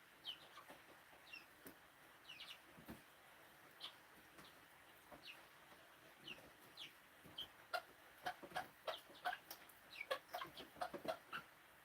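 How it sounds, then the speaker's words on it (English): Baby chickens outdoors in the rain, giving soft, high peeping chirps and small clucks scattered over a steady patter of rain, fairly faint and growing busier toward the end. "Come on, baby chickens."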